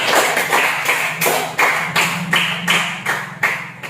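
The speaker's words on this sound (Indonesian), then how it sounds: "tepuk tangan dulu. Tepuk tangan." A class of children in an Indonesian classroom clap their hands in unison, a steady rhythm of about ten sharp, loud claps close by, with no talk over them.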